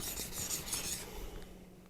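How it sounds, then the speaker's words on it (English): A convex-edged knife is ground toward a flat bevel on a Naniwa diamond whetstone, producing steady close rasping strokes that fade toward the end. "I'm putting the knife down to what I think is like kind of a flat grind off the rounded convex edge"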